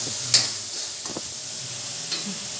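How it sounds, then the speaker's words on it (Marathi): Spices frying in oil in a pan until golden: a soft, steady sizzle with a few faint stirring scrapes and taps of a spoon, close and fairly quiet. "छान तळून घेतले मसाले, सोनेरी कलर येईपर्यंत छान असं शिजून घेतो मसाला."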